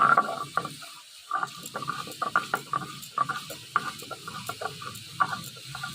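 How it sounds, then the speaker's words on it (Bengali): Onion is ground into a paste together with mustard and cumin, making a steady run of close, rhythmic scraping and grinding strokes with no voices over it. "এই যে অল্প পেঁয়াজ এর মধ্যে বেটে দেবো।"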